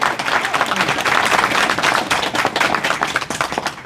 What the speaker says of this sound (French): Applaudissements, bravo.